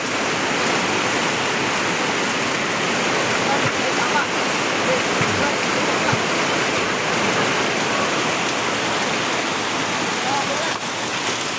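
Heavy rain comes down in a dense, steady roar of water, loud and close and unbroken for the whole stretch, with a voice faintly present under the downpour.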